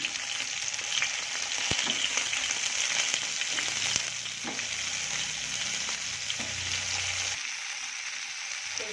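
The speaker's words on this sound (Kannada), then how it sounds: "ಈಗ ಬದ್ನಿಕಾಯಿ ಹಾಕಿ ಹುರಿದ ಮಸಾಲ ಹಾಕಿಬಿಡ್ತೇನೆ ಅದಕ್ಕೆ" Brinjal with roasted masala fries in a pan in a home kitchen, giving a close, steady sizzle with scraping stirs throughout. The hiss eases a little toward the end, and nobody talks.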